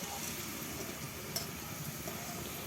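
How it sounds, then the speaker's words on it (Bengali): Crispy egg pakoras frying in oil on a low gas flame, a steady soft sizzle with a faint tick or two, close and unbroken, no talk. "এই যে দেখো ডিমের পকোড়াগুলো লাল লাল করে ভাজা হয়ে গেছে।"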